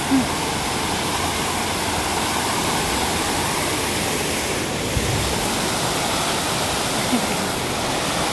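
Continuous rushing water, like a stream or small waterfall in Hong Kong Park, a steady broadband wash with no voices.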